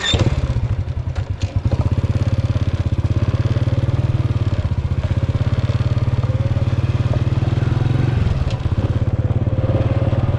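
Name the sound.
petrol-engine vehicle riding along road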